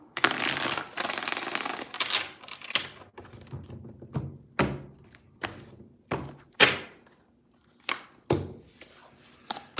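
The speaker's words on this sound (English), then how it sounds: "3 shuffles." Tarot cards being shuffled and handled close up in three rounds, with bursts of riffling followed by irregular soft thumps and taps as the deck is squared and set down, and no talk.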